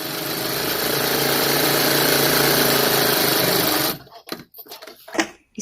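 A sewing machine runs steadily for about four seconds, stitching the seams of a pair of shorts, then stops, leaving only a few faint handling noises.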